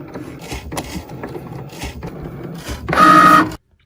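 A Cricut cutting machine works through cardstock for a graduation photo banner, with soft mechanical whirring and shuffling movements, then a louder buzzing motor burst near the end before it stops abruptly.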